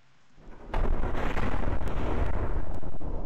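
A loud, deep plane explosion in the game People Playground booms and rumbles on for a few seconds, a heavy roaring blast filling the space.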